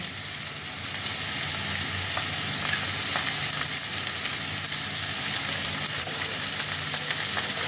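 Spring onion and vegetables fry in a pan for a chicken vegetable soup. A loud, steady sizzle with crackling continues throughout, with no talking.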